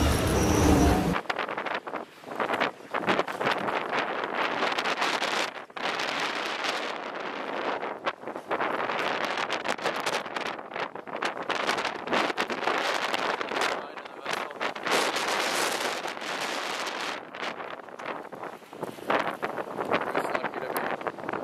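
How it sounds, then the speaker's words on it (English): Storm wind of at least 70 knots howling over a sailboat at sea, a loud, roaring, gusting rush that surges and dips continuously with heavy microphone buffeting. "Captain Micha said that we have at least 70 knots of wind"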